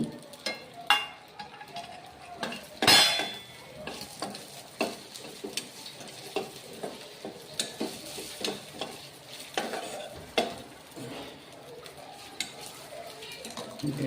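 Rice frying in ghee is stirred in a pan, a low sizzle running beneath frequent scraping strokes and clinks of a spoon against the metal, with one sharp louder clatter early on and no voices.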